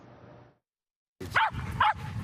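A dog gives two sharp, close barks in quick succession after a brief lull, loud against a quiet background.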